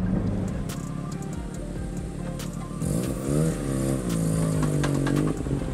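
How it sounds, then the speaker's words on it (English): A Mazda RX7 driving with a clunking limited-slip differential: a steady engine drone with clattering knocks, rising into a revving pull partway through, with no talk. "So the diff clunks like crazy right now."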